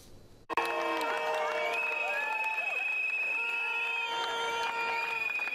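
Protesters massed outside the Slovenian Parliament in Ljubljana, many of them young, raise a loud, sustained roar of shouting voices that bursts in suddenly and stays dense throughout.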